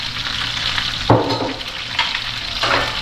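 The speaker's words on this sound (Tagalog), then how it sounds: "Habang tayo nagpiprito." Vegetables fry in hot oil in a pan, giving a steady loud sizzle with a few sharper bursts as food is stirred or added, and no talk over it.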